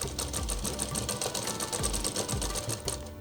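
An overlock sewing machine stitches a Patiala kurti in one continuous, loud, close whirring run with a fast, even mechanical pulse, without speech.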